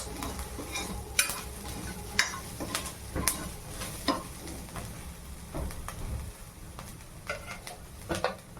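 A spoon stirs paneer bhurji ingredients (onion, capsicum and green chillies) in a sizzling pan, with repeated scraping strokes and sharp clanks against the metal over a steady frying hiss.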